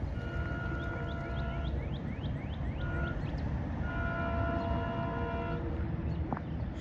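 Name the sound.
SEPTA commuter train passing at Hatboro crossing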